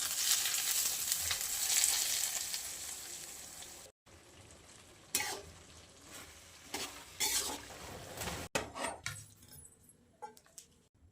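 Garlic and two red chillies sizzle in hot ghee, a steady close frying hiss that pauses briefly, then continues more quietly with intermittent spoon stirring and scraping.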